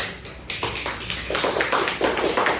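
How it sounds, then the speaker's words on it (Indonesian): Classroom applause from students in an Indonesian school lesson after a group presentation, a brief burst of fast, close hand clapping that builds and stays steady. "beri tepuk tangan"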